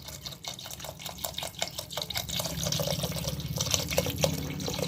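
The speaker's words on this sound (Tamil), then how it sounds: "இப்போ பத்தாவதுக்கு கொஞ்சம் தண்ணி சேர்த்துக்குவோம்" Water pours steadily into a cooking pot of chicken curry, a splashing, gurgling stream that grows fuller and louder as it fills.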